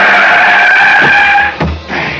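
Car tires screech in a loud, sustained skid for a radio drama sound effect, a bright squeal holding steady then breaking into a couple of sharper bursts near the end, with no voices.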